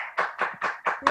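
A few sharp hand claps during a leadership video conference, about five quick, evenly spaced slaps close by, with no talking over them.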